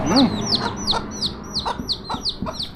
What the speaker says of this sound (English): And there's also chicken and chicklets.